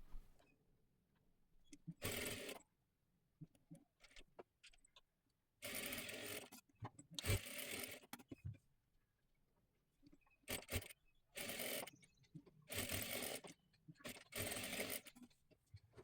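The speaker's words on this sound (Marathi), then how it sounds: "दोन्ही सुद्धा बाजू डबल शिलाई देऊन घ्या" Sewing machine double-stitching the shoulder seams of a size 38 katori blouse, running in repeated bursts of a few seconds each, separated by quieter pauses.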